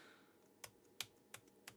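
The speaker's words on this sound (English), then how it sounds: "I'm pressing backspace and it's not deleting anything" Four faint, crisp key taps on a faulty laptop keyboard, evenly spaced about a third of a second apart, in a quiet room.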